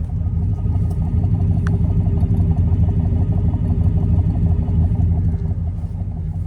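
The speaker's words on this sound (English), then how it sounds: "here's the sound of the exhaust at idle." A restored 1967 Buick Skylark two-door hardtop with a V8 and dual exhaust idling outdoors: a steady, low, rumbling burble that stays even and close throughout, with no voices.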